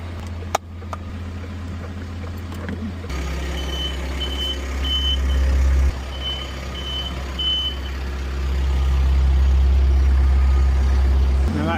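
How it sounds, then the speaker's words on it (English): A construction crane at a sand site on a hot day, faltering with a battery-related fault, gives a loud low engine drone that rises and falls, with a repeating high warning beep pulsing at steady intervals in the middle. "not how I like to stall the crane."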